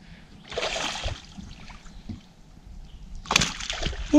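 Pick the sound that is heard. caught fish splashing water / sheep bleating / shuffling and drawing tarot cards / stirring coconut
caught fish splashing water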